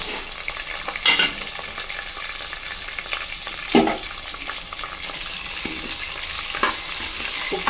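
Ginger garlic paste, onion and dried red chilies fry in a hot pan for broken rice upma, a steady close sizzle with a few louder stirring scrapes and bursts.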